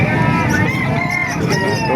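Roosters crowing amid a busy, noisy backdrop of a chicken market in Calumpit, Bulacan, Philippines, with some clucking and faint voices mixed in.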